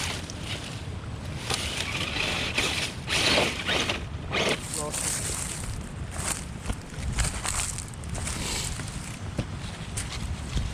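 An RC rock crawler's electric motor whines and strains as it climbs steep outdoor terrain, with uneven bursts of gear and mechanism noise, clicks and rattles, up close under wind noise.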